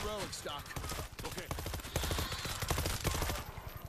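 Weapons fire in the zombie shooter World War Z, with fast repeated shots and a dense crackle running under game sounds and a talking voice.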